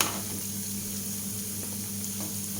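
Bottle gourd koftas fry in hot oil over a medium flame, giving a steady, close hiss and sizzle with a low hum underneath, with no talking.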